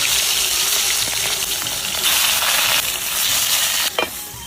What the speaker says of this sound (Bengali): কড়াই গরম হয়ে গেছে, আর পাতুরির জন্য তেল দিয়ে দেবো।